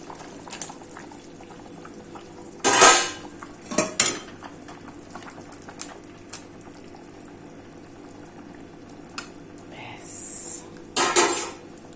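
Eggplant pieces drop into a pan of simmering fish curry with potatoes, giving two short bursts of loud hissing sizzle among light clinks of utensils and pans and a low bubbling simmer in a kitchen.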